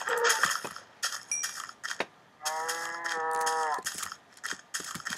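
Cows moo in a survival video game, one long drawn-out low call standing out amid clicky game effects and short mechanical clatter, fairly close and moderately loud.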